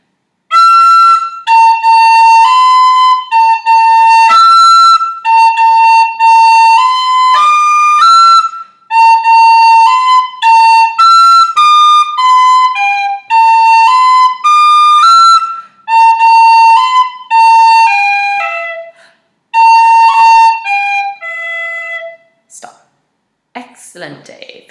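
The jig Scatter the Mud is played on a bright tin whistle, the first three phrases run together as one lively, fast, bouncing melody, loud and close, ending with a short fade and a breathy tail.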